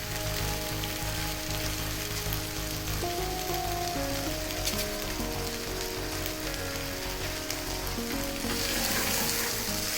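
Prawn pulao sizzling in a pan over a medium-high flame while being stirred: a steady, close, continuous frying hiss with soft scraping throughout, no voices.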